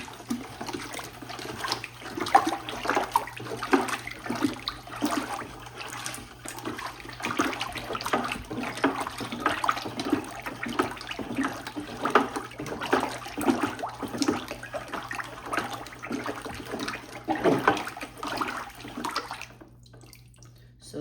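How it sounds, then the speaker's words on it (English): Ceramic glaze stirred in a bucket for glazing pottery, a steady wet swishing and sloshing that runs continuously and fairly close, with rhythmic strokes and no talking, falling quiet at the very end. "Give that a stir."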